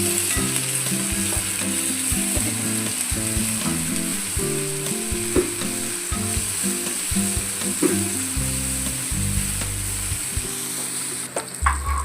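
Onion frying in a pan, a dense continuous sizzle with crackling and some rhythmic scraping and clicking from stirring, close and steady throughout, no voices.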